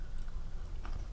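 Someone chews a crunchy lemon shortbread Girl Scout cookie with citrus frosting, close to the microphone, giving a quick series of soft crunches and mouth noises over about a second.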